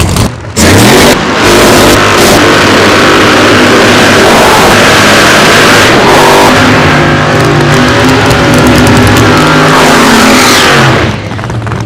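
Pro Mod drag race cars at Darlington Dragway, including a Camaro with a 959-cubic-inch nitrous-injected Hemi, roaring at full throttle in a loud, sustained blast that rises and holds before cutting off near the end.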